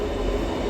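A South Western train pulls into platform 2 at Eastleigh station with a brief, steady, fairly loud rumble of wheels and carriages and no voices.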